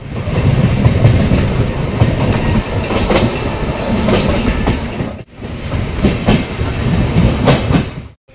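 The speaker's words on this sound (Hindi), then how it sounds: "फाइनली हमारी ट्रेन मानकर रेलवे स्टेशन से निकल रही है" Coalfield Superfast train pulling out of Mankar railway station, steady loud rumble and clickety-clack of wheels over rail joints heard from on board, briefly dipping once before resuming, with no talk.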